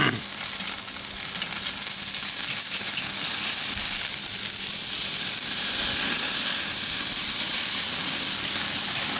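Carne asada steaks fry on a charcoal grill, producing a close, steady sizzle and hiss that runs unbroken with no talking.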